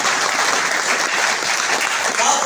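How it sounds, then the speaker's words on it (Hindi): Applause from a seated audience at an RCM marketing-plan seminar, steady dense clapping, loud and close, filling the whole stretch without a break. "तो उनके सम्मान में ताली आप कैसी बजाओगे साहब?"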